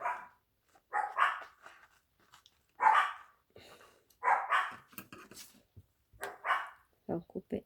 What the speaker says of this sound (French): c'est mes chiens qui aboient